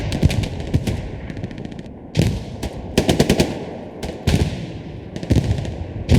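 Bursts of machine gun fire ring out in the video game Hell Let Loose, several loud rapid strings of shots with short gaps between them.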